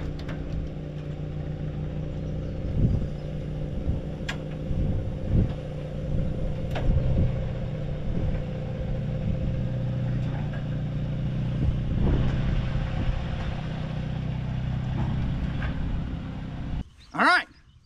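A Jeep XJ slowly backing down homemade metal ramps off a haul trailer, a steady low engine rumble throughout with faint clanks, ending in a brief loud burst.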